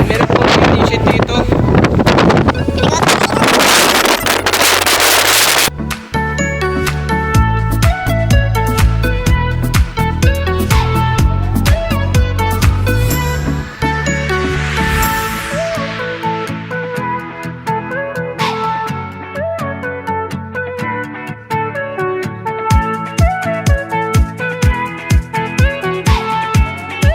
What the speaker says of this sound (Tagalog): sobrang lakas po ng hangin